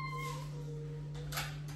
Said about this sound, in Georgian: კატა.